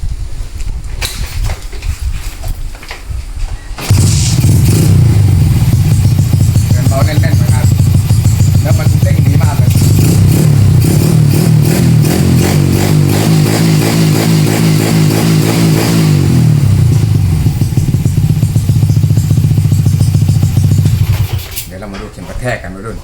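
A modified motorcycle with a stock-stroke engine revs loudly and continuously during a throttle test, holding a buzzing, pulsing high note for well over ten seconds before dropping back to idle.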